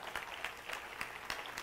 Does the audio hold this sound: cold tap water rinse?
no